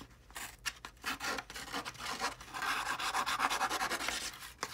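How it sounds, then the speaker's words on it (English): Paper being scraped to give it an aged look, a dry rasping rub made of quick uneven strokes that build into a steady scratching run, close and fairly quiet with no talking. "But just come along and scrape it."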